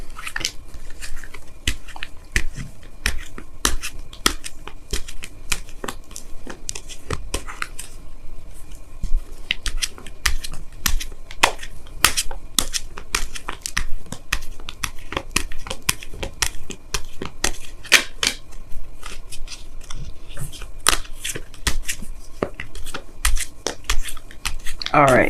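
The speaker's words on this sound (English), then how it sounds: "Let me go ahead and pull you guys your Wisdom of the Oracle card for the week." Oracle cards are shuffled and pulled, giving quick crisp slapping and riffling bursts in uneven clusters, close and fairly loud, over about twenty-five seconds with no talking.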